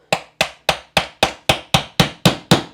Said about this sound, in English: And I'm going to keep hammering this until it stops.